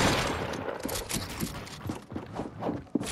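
Rapid gunfire in the battle royale game Fortnite, a quick string of sharp, close shots in uneven rhythm over a steady background, ending in one louder crack.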